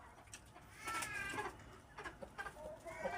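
A rooster clucks in short, faint bursts over an outdoor background at a rural place, with several scattered calls.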